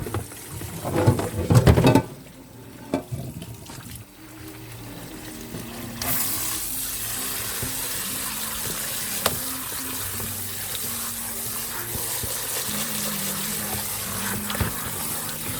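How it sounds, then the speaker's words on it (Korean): Cooked naengmyeon noodles are rinsed under cold running water, a continuous tap stream splashing into a sink with some handling and rubbing noises, steady and close, preceded by a brief louder clatter. "이렇게 찬물에 씻어줍니다."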